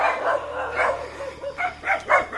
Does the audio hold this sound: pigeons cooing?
no